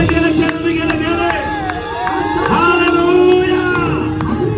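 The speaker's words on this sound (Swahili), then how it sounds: "Kwa sauti mpige Yesu vigelegele na makofi." A church congregation fills the room with high, wavering ululation over scattered clapping, many voices close and loud, rising and falling continuously with a crowd murmur beneath.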